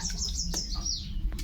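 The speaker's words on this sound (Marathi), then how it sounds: "झाडांवर पाणी मारलं तर छान चिमण्या आल्या चिमण्यांचा आवाज येते पाणी प्यायला" Sparrows chirp around freshly watered trees in a courtyard, quick high tweets overlapping close by over a low steady background hum.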